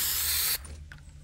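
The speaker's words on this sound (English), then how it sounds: "spray paint a GG on it." Spray painting in the video game Fortnite: a loud continuous aerosol hiss for about half a second that cuts off abruptly, followed by a faint click and quiet game ambience.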